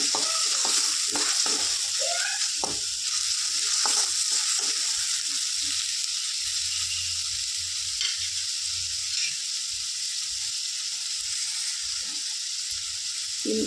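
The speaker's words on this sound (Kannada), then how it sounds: "ಶುಂಠಿ ಮತ್ತು ಬೆಳ್ಳುಳ್ಳಿದು ಹಸಿ ವಾಸನೆ ಹೋಗೋವರೆಗೂ ಚೆನ್ನಾಗಿ ಫ್ರೈ ಮಾಡ್ಕೋಬೇಕು" Crushed ginger and garlic sizzling in a pan, a steady hiss of frying with a spoon scraping and stirring in bursts during the first few seconds, then quieter intermittent stirring, all close and without talk.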